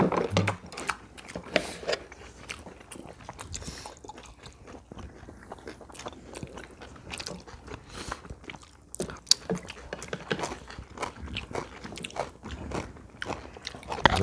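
Close, steady biting and crunchy chewing of a crisp kimchi pancake at a Korean New Year meal with dumpling hot pot, repeated bites and munching throughout with hardly any talk.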